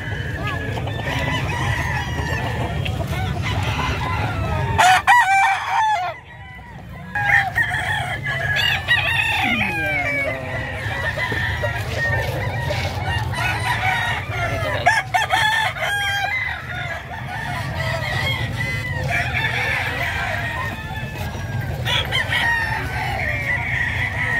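Chickens at a livestock market in San Carlos City, Pangasinan, with roosters crowing and hens clucking nonstop in a noisy crowded chorus, close and fairly loud, under murmured market chatter.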